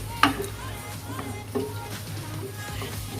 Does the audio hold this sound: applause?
no